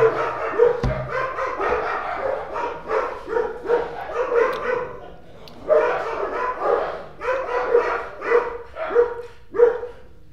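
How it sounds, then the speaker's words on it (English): Dogs bark repeatedly nearby in loud, uneven bursts mixed with yips, continuing throughout with no other sounds. "Dogs barking."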